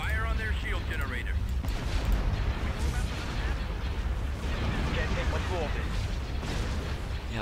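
Dense, continuous barrage of starship weapons fire and explosions in a Star Wars Empire at War Clone Wars mod space battle, booming and rumbling without pause, with a voice briefly audible over the din.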